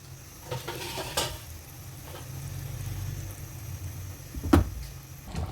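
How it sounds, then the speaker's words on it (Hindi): A chickpea mixture with its boiling water is stirred in a pan for Lahori chanay, giving a steady low sizzling bed with scraping spoon strokes and a sharper clank near the end, with no talk. "इसको अच्छी तरह से मिक्स कर लेते हैं।"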